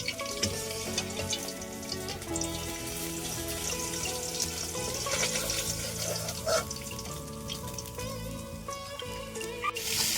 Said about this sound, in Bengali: এই যে মাছগুলো ভাজছি